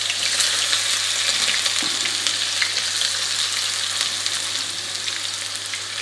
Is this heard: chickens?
no